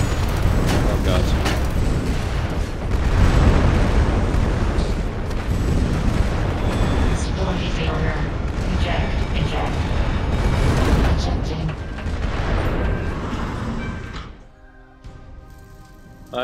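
Loud, continuous rocket blasts and booming explosions fill a mech combat match in Vox Machinae, dense and rumbling for most of the stretch before dropping off near the end, with a player talking over them.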